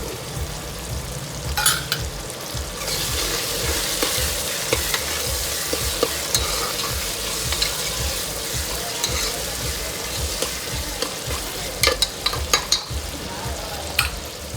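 Green peas frying in a kadai for a veg pulao, a loud continuous sizzle with rhythmic stirring scrapes and occasional spoon clinks against the pan, no talk.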